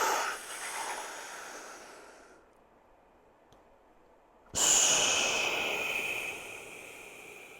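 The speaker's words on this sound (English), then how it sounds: "we're gonna breathe in as we expand upwards" A standing person takes a long, deep in-breath during exercise, close and fairly loud, then a quiet pause, then a sharp, strong breath resumes and carries on to the end.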